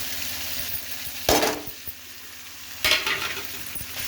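Masala paste being stirred into country chicken curry frying in a pan, a steady sizzle broken by two louder scraping sweeps of the spoon, close and with no talking.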